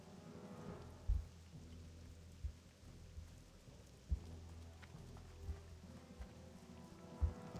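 In-game rain and thunder in the Arathi Highlands of World of Warcraft Classic: a faint, steady rain hiss with soft, low thuds recurring every second or two, heard alone and without talking.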